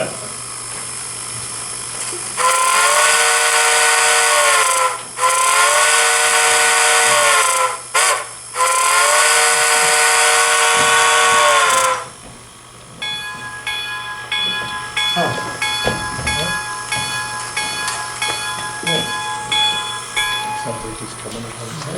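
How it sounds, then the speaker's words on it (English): A model steam locomotive's sound decoder blows a shrill whistle in long blasts with brief breaks for about ten seconds, followed by quieter rhythmic chugging and clicking of the small dead-rail train. "Dale, Yes, you blow the whistle for the camera again?"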